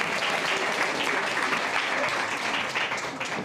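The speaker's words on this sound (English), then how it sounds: "Please give him a round of applause." Audience applause at a student entrepreneurship week event honoring a group's innovation; dense, continuous clapping fills the whole stretch at a steady, fairly loud level.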